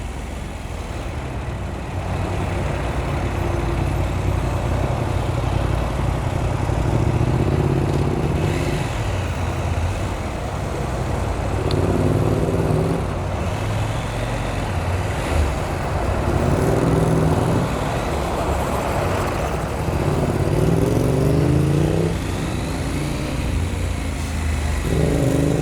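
A motorcycle engine and exhaust drone steadily while riding through Vienna city traffic, loud and close, with the revs repeatedly rising and falling as the bike accelerates and slows.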